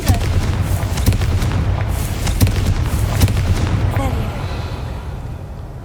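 A Confringo fire spell explodes in Hogwarts Legacy, a run of loud booming blasts and crackling bursts at close range, repeated several times over a rumbling low background, fading toward the end.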